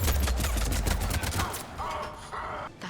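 Dense bursts of gunfire in the sci-fi shooter Mass Effect 3, a loud rapid rattle of shots that thins out after a second and a half into scattered fainter sounds.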